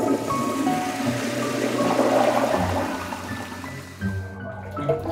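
A toilet flushes with a loud rushing gush of water that swirls and drains, then eases into a softer refill trickle near the end, heard close in a small room.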